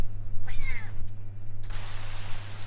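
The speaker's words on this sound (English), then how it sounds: "Nice cat." A house cat meows once nearby, a short rising-falling cry over a constant low electrical hum, followed by a burst of broadband rustling noise.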